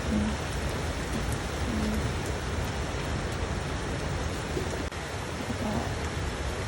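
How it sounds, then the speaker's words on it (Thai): Continuous rain patter, even and moderately loud, filling the whole stretch with no voices. "ฝนตกแบบนี้เนาะ"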